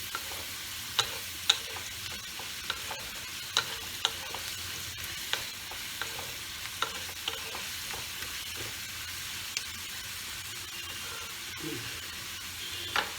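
Potatoes frying in a pan for a Bengali beans-and-potato curry, a soft continuous sizzle broken by light scraping clicks as a spatula stirs them at an irregular rhythm, close and fairly quiet.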